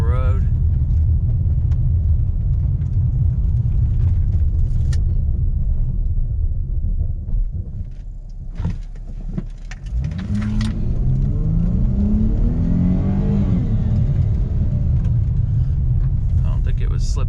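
A Chrysler 300 with a front axle 4x4 fault rolls steadily along a gravel road, its low rumbling tire and engine noise continuous and close throughout, dipping briefly before picking back up with a rising tone.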